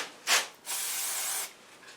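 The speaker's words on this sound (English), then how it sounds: "I'm putting carb clean on it here," Carburetor cleaner hisses out of an aerosol can during snow blower maintenance: one short burst, then a longer steady spray, close and fairly quiet.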